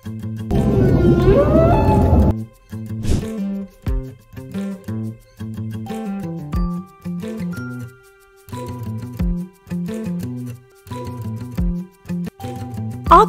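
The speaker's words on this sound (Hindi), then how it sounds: "व्हेल," A whale gives long tonal calls: a loud sweeping moan, then a sequence of repeated pulsed, horn-like notes with short gaps, heard alone.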